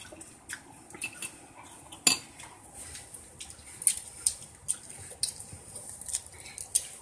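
A utensil scraping and knocking against the bottom of a pot, a series of quiet irregular metallic scrapes and clinks with a louder clank near the start, no voices.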